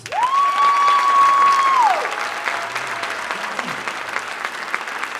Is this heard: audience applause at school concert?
yes